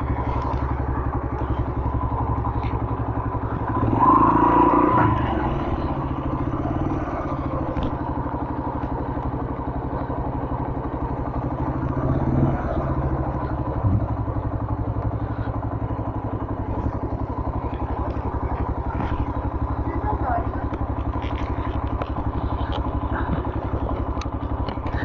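A motorcycle engine idles with a low, steady rumble, a louder burst of revving early on, and faint clatter throughout.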